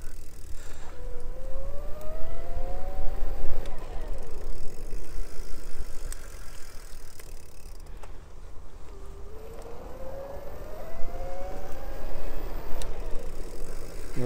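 A Bafang BBSHD 1000W mid-drive electric bike motor whines as it cruises in a low gear, its pitch sweeping upward in two rising runs over steady wind and road rumble, with no voices.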